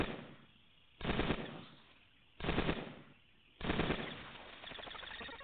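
Bursts of automatic gunfire from the video game Cogmind as a bot is shot: three loud, dense rattling volleys with gaps between them, and a softer continuing burst at the end.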